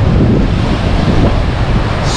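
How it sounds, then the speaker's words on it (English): Surf and strong wind roar steadily on the Western Australian coast in the Great Southern region, a dense, loud wash of breaking waves with gusts buffeting the microphone. "We are literally standing in the middle"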